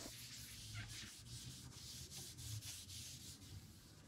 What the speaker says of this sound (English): we do our final pass of sanding